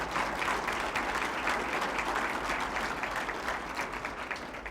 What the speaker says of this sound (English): Y'all give a big round of applause for Mr. Jimmy Long.